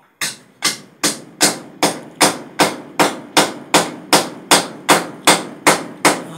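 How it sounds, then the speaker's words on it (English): Hammer blows while installing electricity in a man cave, a steady series of about fifteen sharp, loud strikes at an even rhythm, each ringing briefly before the next, with no talking. "Ah, the sweet sound of hammer."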